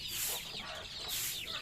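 Rhode Island chickens clucking in a backyard poultry pen behind a house, soft, rapid clucks and squawks repeating continuously at a faint, moderate distance.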